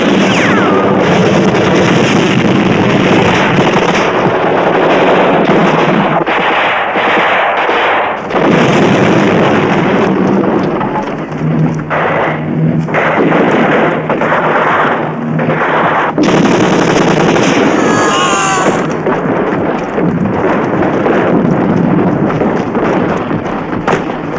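Dense gunfire from an action film, with rapid bursts of shots and heavy blasts that go on nearly without pause for the whole stretch, loud and close with a few brief lulls.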